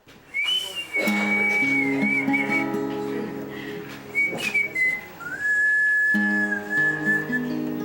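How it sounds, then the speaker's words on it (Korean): A long, wavering whistle like a fisherman's traditional call to lure fish, carried on a sustained tone, sliding and warbling in pitch with a few brief breaks, loud and close with no talking. "옛날에 어부들이 고기 잡을 때 이런 그 야릇한 휘파람인데"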